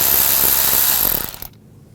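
A socket ratchet clicks rapidly while loosening a nut on the intake manifold of a 2011-2018 Volkswagen Jetta 2.0L TDI, a close, busy clicking that slows and stops abruptly near the end.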